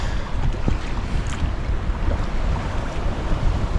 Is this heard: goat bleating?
no